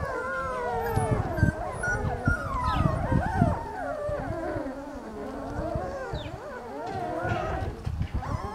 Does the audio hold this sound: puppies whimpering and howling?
yes